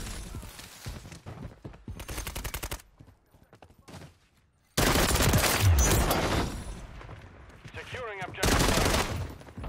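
Gunfire crackles through a Call of Duty Modern Warfare III multiplayer match: rapid automatic bursts and fusillades, close and loud, with a lull in the middle, as a voice briefly speaks.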